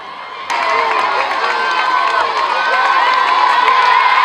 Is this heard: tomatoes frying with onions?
no